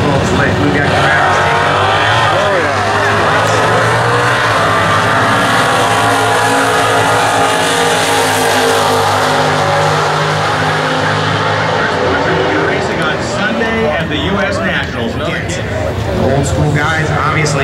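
Drag racing cars at the US Nationals, one powered by a 426 Hemi, roar loud and close in a sustained, heavy engine drone that builds and shifts, with an announcer talking over it the whole time.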